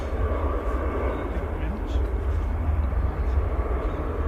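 A Lufthansa airliner at Manchester Airport makes a steady, broad jet roar at moderate distance, holding level across the whole stretch, with people chatting over it.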